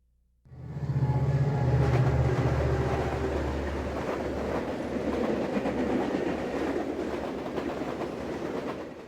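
A Burlington Northern passenger train rumbles in and rolls along the rails, a deep steady roar with rhythmic clicking of wheels over track joints, loud and close.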